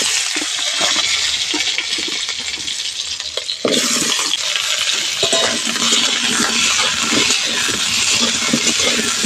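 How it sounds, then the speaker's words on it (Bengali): Pointed gourd (potol) frying in hot oil in a pan, a steady loud crackling sizzle heard up close for the whole stretch, jumping suddenly louder partway through with no talking. "এই তেলের মধ্যে পটলটা ভেজে নেব।"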